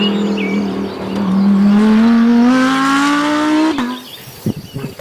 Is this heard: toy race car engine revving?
yes